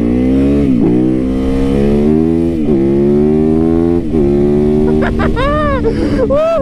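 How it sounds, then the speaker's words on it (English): A motorcycle engine at full throttle revs hard and close through repeated rising pulls between gear shifts, loud and continuous, with wind roar and a brief voice over it. "that feels good when you can just rip, ring the heck out of that throttle"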